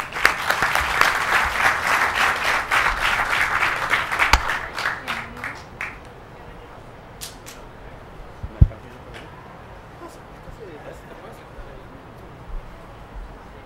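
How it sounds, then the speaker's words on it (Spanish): An audience at a lecture on Jatropha curcas bursts into loud, dense applause for the invited speakers, fading out over about six seconds into a quiet room with a few scattered claps and a sharp knock. "y con el doctor Alfredo Estrada, para quienes pido un fuerte aplauso"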